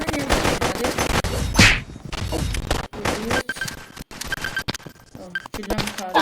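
Gunfire from the shooting video game Pixel Gun 3D cracks in sharp bursts and single shots, with a voice talking excitedly over the action.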